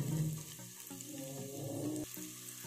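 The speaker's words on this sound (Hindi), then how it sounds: "अब प्याज को गोल्डन ब्राउन होने तक हम भूनेंगे" Two large chopped onions with a pinch of asafoetida and chopped green chillies fry in a pan for onion paratha, giving a steady, close sizzle with faint stirring and a low background hum.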